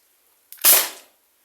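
A Byrna launcher fitted with a loose aluminium barrel fires a single sharp shot, a sudden loud crack with a brief hissing tail, alone in otherwise quiet surroundings.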